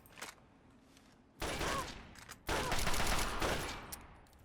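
Gunfire from a BB gun in the video game Fallout: New Vegas: two sustained bursts of dense, loud noise, the second longer and fading slowly, with no talking.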